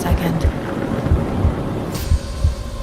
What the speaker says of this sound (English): Suddenly, lightning flashed across the windows, lighting up the room for a split second.